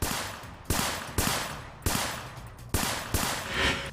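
Gunfire rings out in a series of about five sharp, loud shots spaced roughly half a second apart, each followed by a decaying echo, with no voices.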